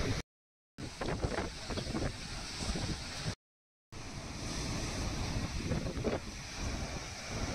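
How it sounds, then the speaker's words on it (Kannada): Roaring surf of the Konkan coast near Ratnagiri, a steady broadband wash of waves with wind buffeting the microphone, interrupted by two short gaps of silence. "ಕೊಂಕಣ್ಣ ಅಲೆಗಳ ಅಬ್ಬರ"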